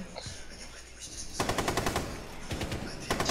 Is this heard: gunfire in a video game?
yes